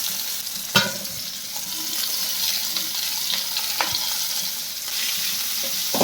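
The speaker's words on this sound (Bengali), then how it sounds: "পেঁয়াজটা দিয়ে দিলাম, সাথে দেবো রসুন কুচি আর একটা কাঁচা লঙ্কা চেরা।" Onion, garlic and a slit green chili fry in hot oil in a home kitchen, giving a close, continuous sizzle with a sharp clatter of stirring near the start and occasional utensil taps.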